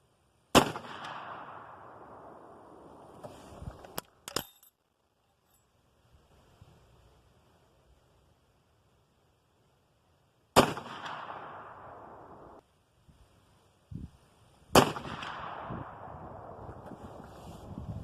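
A .45-70 rifle with an 1885 action and octagon barrel fires at outdoor targets: four loud, sharp reports spread across the span, each followed by a long rumbling echo, with quieter handling noises and near silence between shots.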